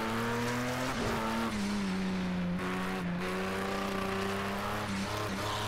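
A prototype LMP2 sports car in Project CARS 2 slides sideways with a loud, sustained tire squeal over the steady drone of its racing engine, shifting pitch as it scrubs through the skid, with no voices.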